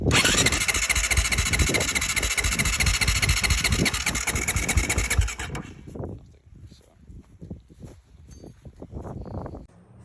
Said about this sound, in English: So yeah, this is it trying to start.